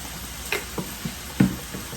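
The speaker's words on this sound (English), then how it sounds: "Give it a good stir." A spoon scrapes and clicks in a pan of sloppy joe pasta sauce with yellow mustard and a little water, a few soft stirring knocks over a faint low sizzle.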